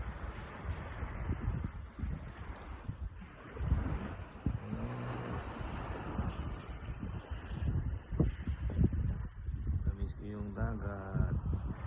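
Sea waves wash against a shore in a steady surging roar under heavy wind noise, with brief muffled voices in places.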